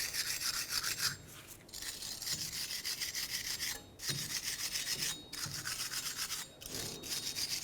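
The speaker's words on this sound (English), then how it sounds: "clean up the mating surface on the end of your axle here" Someone scrubs the mating surface on the end of a 2004-2015 Nissan Titan axle, a close rasping rub in steady strokes with brief pauses between passes.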